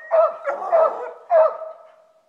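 Coon hunting dogs barking up a tree at a treed young raccoon during a Kentucky night hunt; several loud, close, drawn-out bawling barks come in three bursts, then trail off.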